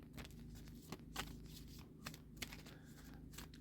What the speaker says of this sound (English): We're just going to give these a shuffle up and a move around